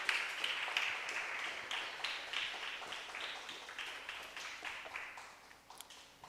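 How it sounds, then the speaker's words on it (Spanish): A church congregation applauds during a sermon, faint and distant clapping that fades gradually over several seconds in a roomy space. "Dale un aplauso al Señor si te gozas, por favor."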